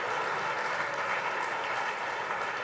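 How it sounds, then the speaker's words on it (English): Steady, dense applause from a large audience at a THiNK 2011 festival talk, a continuous wash of clapping with no voices over it. "before everyone started clapping"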